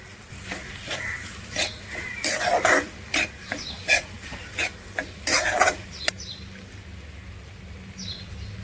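Paneer added to sautéed masala in a pan and stirred, a series of sharp scraping and rasping strokes of a spatula against metal, close and irregular, fading to quiet background after a few seconds.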